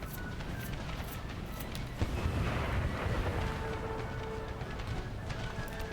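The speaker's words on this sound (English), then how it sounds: "they're still taking heavy fire from enemy artillery" Enemy artillery fire on a Napoleonic-era battlefield in Napoleon: Total War, a low rumbling barrage of booms and distant battle din that rolls on steadily without voices.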